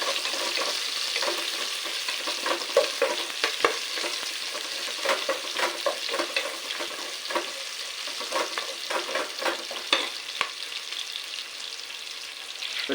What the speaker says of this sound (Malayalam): ചെറിയുള്ളിയും ഗോൾഡൻ കളറായി വരുന്നുണ്ട് അപ്പോൾ ഒരു സവാളയും കുറച്ച് കാന്താരി ഇട്ട് കൊടുക്കുന്നുണ്ട്